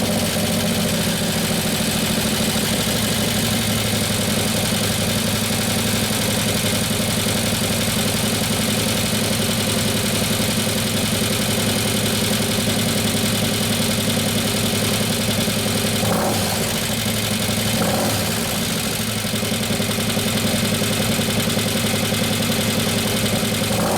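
A Harley-Davidson Road Glide twin cam engine holding a high 2,000 RPM idle, loud, close and steady throughout with a constant mechanical clatter and a faint dip near the end.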